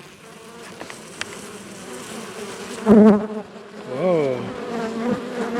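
Honeybees buzz around a beehive in a backyard apiary on a warm day, a steady close drone with individual bees whining past the microphone, and a person briefly speaks over it.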